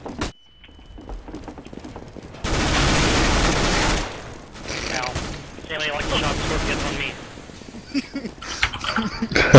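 Rapid bursts of gunfire in Counter-Strike: Global Offensive during a ranked match, loud sustained volleys alternating with shorter shots and mechanical clicks, with players talking over the action.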